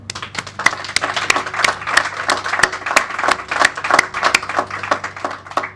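Audience at a press conference for an affordable housing announcement breaks into close, crisp applause, sharp individual claps overlapping in an irregular patter throughout, with a faint low hum beneath.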